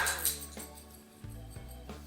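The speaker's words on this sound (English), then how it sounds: "can you hear my dog?" A pet dog barks faintly from somewhere in a quiet indoor room, giving a few soft, scattered yips at a distance.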